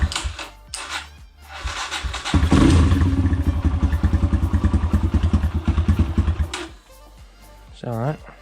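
A Kawasaki KLX140L dirt bike engine, a project bike being revived, sputters and catches into a rapid, uneven putter after a few cranking thumps, loud and close, with voices talking over it.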